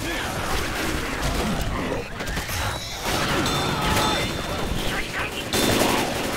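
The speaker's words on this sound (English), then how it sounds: "You're shooting at me more than fucking Charter." Video game gunfire crackles in dense bursts and sustained volleys throughout, loud and close, with a player talking over the shooting.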